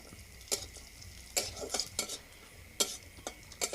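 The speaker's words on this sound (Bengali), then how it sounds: "কড়াইতে ঘি দিচ্ছি, কাজু কিশমিশটা ভেজে নেব।" Cashews and raisins fry in ghee in a wok, a faint low sizzle broken by repeated sharp metal stirring scrapes and clinks against the pan.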